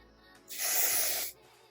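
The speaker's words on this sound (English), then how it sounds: "We're gonna just spray it in our parting here and here." A single steady burst of aerosol hair spray hissing for under a second, close and loud, then stopping abruptly.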